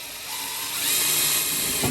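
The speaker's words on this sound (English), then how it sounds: "use my drill." A power drill whirs into a Chevy/GMC extended cab rear door panel, a short rising high-pitched spin that bites and steadies for under two seconds, close and alone.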